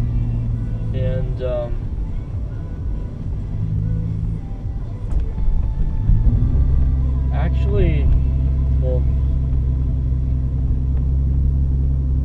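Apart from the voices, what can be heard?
car driving on the road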